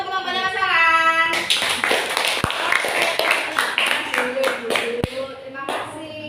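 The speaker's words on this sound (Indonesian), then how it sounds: "Tepuk tangan untuk kelompoknya Mas Alan." Classroom applause for a group of primary school pupils during a teacher-training practice lesson, a burst of clapping mixed with voices and some sharp taps, with speech overlapping throughout.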